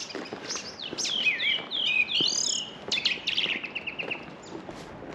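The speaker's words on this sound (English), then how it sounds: "I actually love birdsong, you know." Birds chirp and sing outdoors at sunset, with several overlapping bright, warbling calls and trills that rise and fall in bursts over a soft background hush, fairly close and clear, with no talking.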